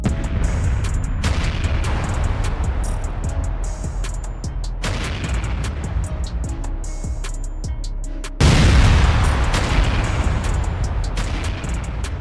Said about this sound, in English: a few seconds later, a chain of explosions occurred inside the vehicle.